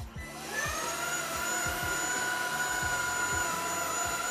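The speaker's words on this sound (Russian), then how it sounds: "если быстро пылесосить, то также стягивает ковер" A Xiaomi Dreame P10 cordless stick vacuum runs on its lowest power over carpet, giving a steady motor whine with a high tone and a low, rhythmic scrubbing pulse as it is pushed back and forth.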